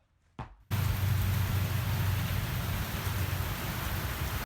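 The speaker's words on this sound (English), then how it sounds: "it got cut short due to rain" Rain falling steadily on a wet baseball pitching mound, a dense, even hiss that starts abruptly after a brief knock and continues loud and close throughout.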